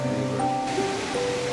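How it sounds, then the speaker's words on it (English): Lakkam waterfall in Munnar, Kerala, rushes in a steady broadband roar, loud and continuous, with faint tonal sounds briefly above it. "now near Lakkam waterfall"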